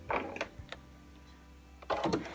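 A sewing machine stitching a placemat in fabric runs in two short mechanical bursts at the start and end, with a few faint clicks in a quiet gap between, close and moderately loud.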